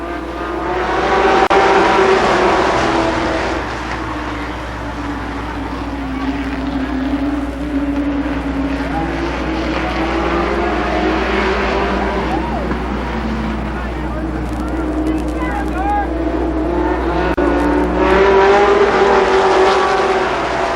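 Stock cars race around the Columbus Motor Speedway oval, a loud, sustained roar of engines with rising and falling revs as the pack circles, while an announcer talks over the track noise.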